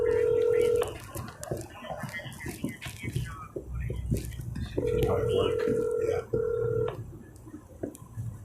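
Tones of a number being punched into a work desk phone, two bursts of steady beeps, the first short and the second longer, heard close over a room full of background chatter and movement.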